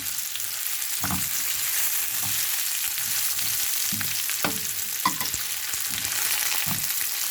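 Shiitake mushrooms stir-fried in hot oil for a bacon-style pork dish give a steady, close sizzle, with repeated scraping strokes of a spatula against the pan at an irregular rhythm and no talking.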